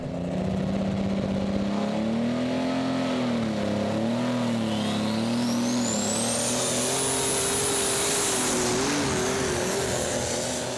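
A superstock pulling tractor at a Eurocup tractor pulling event in Herning, Denmark, revs its engine, with a loud, continuous roar that rises and wavers in pitch as the engine winds up, close and unbroken with no talk.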